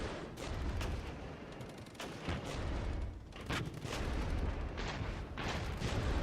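Mortar and gunfire in the real-time war game Regiments, a dense continuous rumble of distant shots and booming blasts that swells and eases in waves, with no voices.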